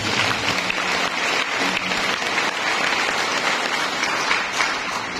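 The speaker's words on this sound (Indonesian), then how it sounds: "Saya minta tepuk tangan untuk Pak Surya Nagawati." Audience applause for an honoured guest at the Milad Tahta Mataram 2023 anniversary gathering, a dense sustained wash of many hands clapping from a large crowd, steady and full throughout.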